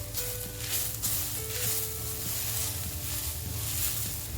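Turmeric, chili powder and other spices sauté in a pan with a soft, steady sizzle and faint crackle that hisses evenly throughout, close but quiet.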